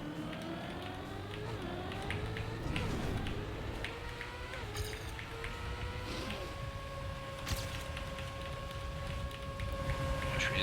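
Car engine in the racing video game TrackMania 2020 droning continuously, a whiny tone that sweeps and shifts pitch before settling onto a steady high note, loud and unbroken with no talking.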